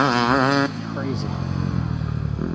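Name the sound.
dirt bike riding through ruts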